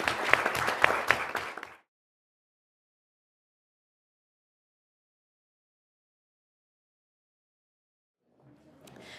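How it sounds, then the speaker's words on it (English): Brief audience applause for a panel at a live event, a short close patter of clapping lasting under two seconds before the room falls silent, with faint sound returning at the end. "I first want to give a round of applause to our wonderful panel"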